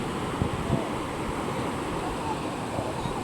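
Fast, strong floodwater rushes across a village road near a temple stupa in Wiang Haeng, Chiang Mai, making a steady, dense roar with no breaks; a voice is faintly audible beneath it.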